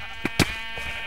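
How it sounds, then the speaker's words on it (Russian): Two short sheep bleats from Minecraft, the first brief and the second louder and fuller, over a steady hum of game background. "Овечка моя, овечка, пошел отсюда"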